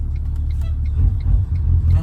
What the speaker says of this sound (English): these big trucks are coming through, and look how close they get to the car